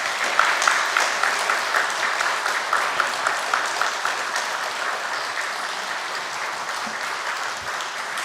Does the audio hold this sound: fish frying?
no